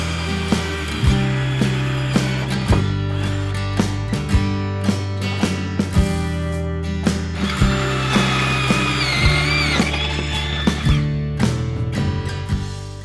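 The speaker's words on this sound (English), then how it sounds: "Just gonna drill 2 holes first." A power drill bores holes into the body of a box truck during a camper conversion, giving loud, close bursts of whirring broken by repeated sharp clicks and ratcheting knocks in an uneven rhythm.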